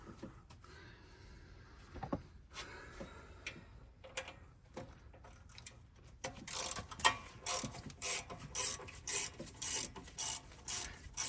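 A 10 mm ratchet wrench loosens the carburetor on a Melex golf cart engine. Scattered clicks and scrapes come first, then a run of quick, close ratcheting bursts in a steady rhythm.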